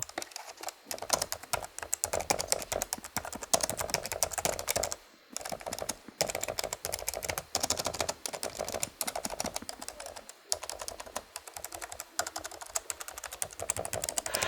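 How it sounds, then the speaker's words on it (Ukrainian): Fast, continuous typing on the keyboard of a Dream Machines RG4070 17-inch laptop, close and crisp, with dense key clicks and a few brief pauses. "Клавіатура приємна, натискається надійно"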